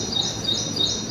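An ashy prinia, a tiny bird of the hill foothills around Yeoor, repeats a high, thin chirping call in a quick steady series, clear and fairly close against a soft outdoor hiss.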